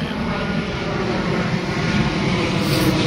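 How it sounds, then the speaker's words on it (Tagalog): A steady, loud roar of a propeller airplane passing overhead near an airport, above a cemetery in Pateros, a continuous droning engine rumble that holds for the whole stretch with no voices. "medyo maingay lang kasi yung aeroplano"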